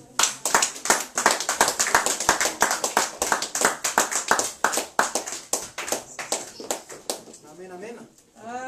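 A church congregation claps in a rhythmic, energetic beat while voices call out and speak over it; the clapping thins toward the end.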